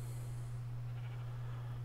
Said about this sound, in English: It was a spider and a sheep.